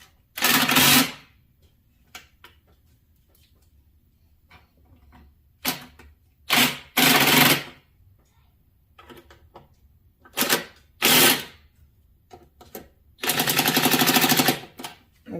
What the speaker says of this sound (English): And you can go ahead and tighten down your bolts.